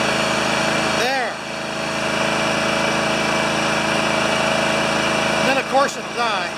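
A John Deere LX178 lawn tractor engine with a Mikuni carburetor and a float problem runs steadily nearby on a manual fuel tank, a loud continuous hum with a couple of brief sputters near the start and end.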